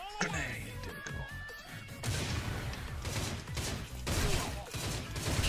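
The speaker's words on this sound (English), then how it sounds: "Grenade!" A grenade explodes in the online shooter Line of Sight, a loud crashing blast followed by rumbling debris and scattered gunfire in a dense, busy game mix.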